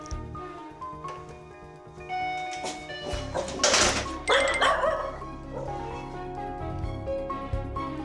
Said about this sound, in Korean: 짖음이 잦아들 때까지 반복합니다.